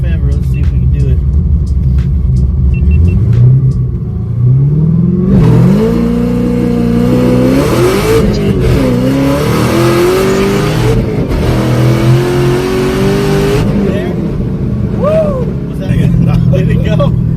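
A 1000-horsepower Chevrolet Camaro ZL1 built by Outlaw Performance accelerates hard from a launch, its engine rising loud and close through several rising pulls, while people talk inside the car.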